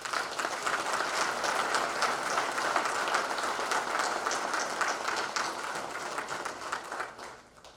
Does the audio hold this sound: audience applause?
yes